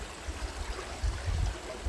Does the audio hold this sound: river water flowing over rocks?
yes